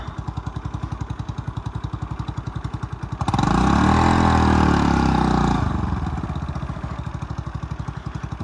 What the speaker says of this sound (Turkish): Şuraya bırakalım motoru.